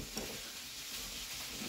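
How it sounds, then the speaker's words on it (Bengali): Fish fingers fry in a pan with a faint, steady sizzle that stays even and unbroken throughout, with no voices present. "আর এইদিকে করছি ফিশ ফিঙ্গার ভাজা"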